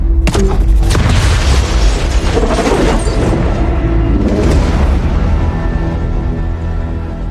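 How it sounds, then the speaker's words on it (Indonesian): A loud, close car explosion booms out in an action film, followed by a roaring rumble and crackling debris that slowly fades. "Namun dengan santai, Travis meledakkan mobil penjahat yang terparkir di depan."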